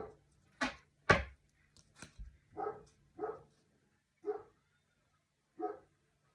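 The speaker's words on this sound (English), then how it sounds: "The dog keeps barking." A dog barks repeatedly indoors, a couple of loud close yaps followed by several softer, spaced woofs with pauses between them, no talking over it.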